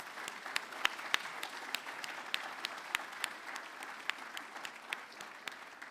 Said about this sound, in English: Just like to give Clodagh a round of applause.